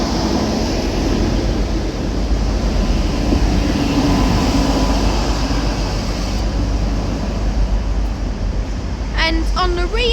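A Class 185 TransPennine Express unit at Liverpool Lime Street station gives a loud, continuous diesel rumble that swells and lingers, with a short burst of voices near the end.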